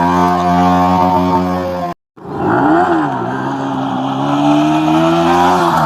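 A Yamaha R15 V3 sport motorcycle revs loudly and steadily during wheelie stunts at a bikers' meetup, with a brief cut of silence before the engine note rises and holds strong again.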